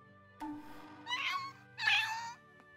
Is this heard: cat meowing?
yes